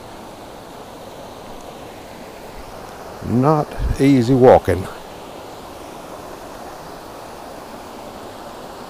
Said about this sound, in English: And I bet you can hear that water, and it sounds beautiful to me.